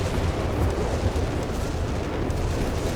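A World War II rocket artillery saturation barrage in Company of Heroes 3 produces a dense, continuous roar of overlapping explosions, rumbling heavily without pause throughout.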